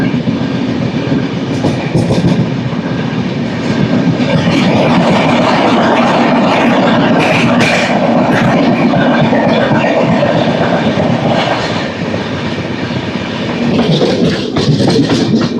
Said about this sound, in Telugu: విజయవాడ నుంచి రాజమండ్రి వరకు వెళ్ళే మెమో ట్రైన్ ఇది.